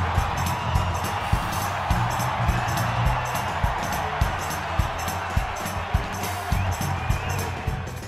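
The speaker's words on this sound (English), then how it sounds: "As expected," A stadium crowd at a Giants baseball game cheers and roars steadily for the Kiss Cam, a dense, continuous wash of voices with scattered whoops and claps, loud and sustained throughout.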